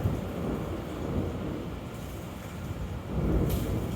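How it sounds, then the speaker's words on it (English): Thunder rolls down from a mountaintop above a waterfall swimming hole, a continuous low rumble at moderate distance that swells slightly near the end, with no voices. "But you can hear the thunder non-stop coming from the top of this mountain."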